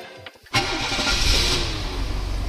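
A Vauxhall Viceroy car engine cranks briefly and catches, then settles into a steady, smooth running note close to the microphone, with no talk over it.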